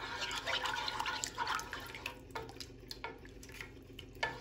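Gravy sauce made with beef broth stirred continuously in a pan, with close, soft liquid sloshing and spoon scraping in uneven strokes that fade toward the end, and no speech.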